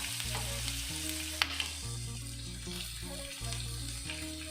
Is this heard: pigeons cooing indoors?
no